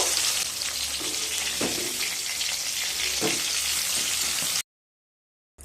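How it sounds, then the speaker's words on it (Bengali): Steady, bright sizzling of pointed gourd frying in hot oil in a wok, with a couple of soft stirring knocks, cutting off abruptly near the end. "পটলগুলোকে খুব ভালোভাবে ভেজে নেব"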